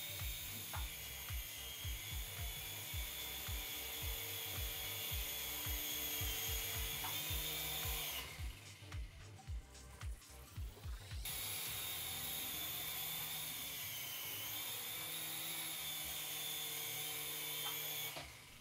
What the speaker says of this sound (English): The helicopter is trimmed nicely, and will keep straight without too much effort.